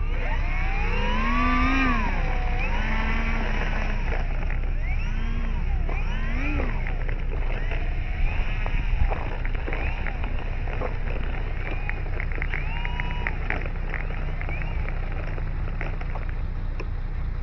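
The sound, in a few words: Avios Bushmule V2 RC plane taxiing with differential thrust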